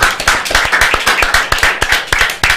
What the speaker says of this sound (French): je pense qu'on va tous applaudir d'abord